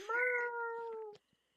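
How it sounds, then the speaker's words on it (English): A domestic cat gives one long, loud, close meow with a clear rising-then-steady tone, ending abruptly in near silence. "My cat talks. My cat calls."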